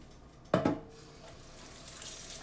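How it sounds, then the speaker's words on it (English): Hands are washed under a running kitchen tap, opening with a sharp splash of water followed by a quieter steady stream that runs on to the end. "I'm gonna wash my hands for real."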